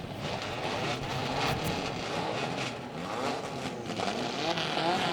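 A field of mini stock race cars, 104 cylinders in all, starting up together at Ohsweken Speedway on a Friday night, making a dense, steady buzzing drone heard from some distance with no voices over it.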